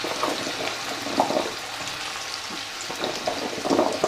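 Potatoes frying in a little oil in a pan, a continuous close hiss and crackle with soft stirring scrapes, no talking.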